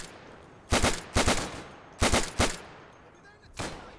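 Bursts of gunfire in the World War II shooter game Day of Infamy: four sharp, loud volleys of two or three rapid shots each, spread across a few seconds with short gaps between them.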